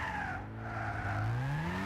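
A RE Amemiya RX-7 drifts in Gran Turismo 6 with a high engine held at high revs and a continuous tire squeal whose pitch sweeps upward, loud and unbroken.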